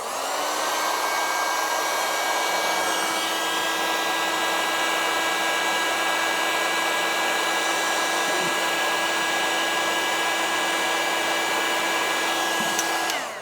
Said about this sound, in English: Cut the heat shrink tubing to size, slide it on, and apply heat.